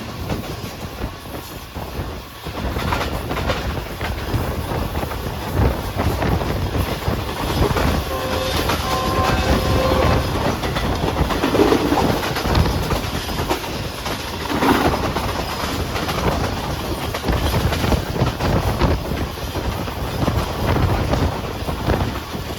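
Shalimar Express passenger train running on Main Line 1 between Karachi and Nawab Shah, a steady loud rumble with rhythmic wheel clatter sustained throughout at close range, no voices.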